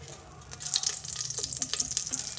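Mustard seeds crackle and sizzle in hot oil in a pan while making bitter gourd sambar, a steady close-up frying hiss dotted with sharp little pops.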